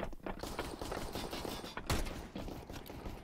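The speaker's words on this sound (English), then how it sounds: "Alright, I'm reloading." Mechanical clicks and ratcheting of a weapon reload in Counter-Strike: Global Offensive, with one sharp metallic snap partway through, set against dense bursts of gunfire in a busy firefight.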